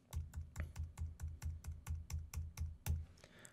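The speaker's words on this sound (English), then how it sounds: "I'm just hitting page down on the keyboard" Page down key on a computer keyboard pressed repeatedly, about a dozen crisp, evenly spaced clicks at a steady quick rhythm, close and soft, with no talking.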